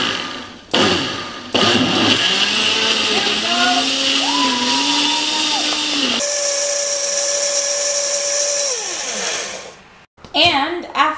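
A blender motor whirs loudly and steadily, its pitch shifting as it purees a thick green smoothie, then cuts off before a short final burst.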